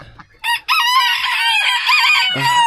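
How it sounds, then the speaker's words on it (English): Several roosters crow loudly and close by on a morning farm with electric netting, their long calls overlapping in a nearly continuous stretch after a short pause. "These roosters are so loud."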